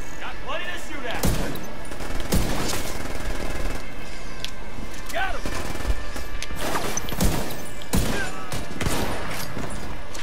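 Bursts of automatic gunfire and sharp single shots crack through a combat scene in the video game The Division 2, loud and dense across the whole stretch, with a voice talking over it.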